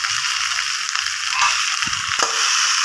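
Ginger, garlic, chopped onion and green chilli fry in an oiled pan as the base for a meat curry, giving a steady close sizzle with a few soft low knocks from the pan.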